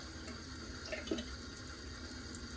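Water runs steadily from a bathroom tap for rinsing off, a constant even splashing flow with no talking.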